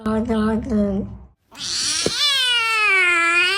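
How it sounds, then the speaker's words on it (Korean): A cat makes strange, engine-like yowling sounds: a short rumbling warble, a pause, then a long sustained strained cry, close and loud. "엔진 소리를 내기도 하고 뭔 말인지 옹알이를 하기도 하죠"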